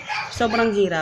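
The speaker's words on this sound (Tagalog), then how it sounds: "Yan ang ingay ng aso." A dog barks and yips indoors at home, a short high-pitched bark with a whiny tail, close by, while someone says a few words over it.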